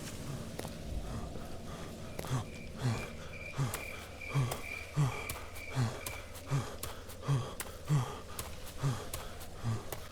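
A character in the horror video game Follia - Dear Father pants in a steady rhythm of short breaths, about every half to three-quarters of a second, over a droning ambience with chirping insects.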